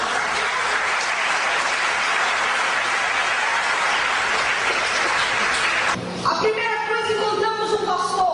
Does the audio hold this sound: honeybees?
no